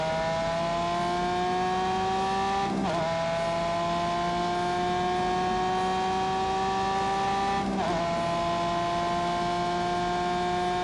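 A Lamborghini engine drones steadily at high revs, its pitch holding with two quick shifts as it sweeps past, loud and close with no voices.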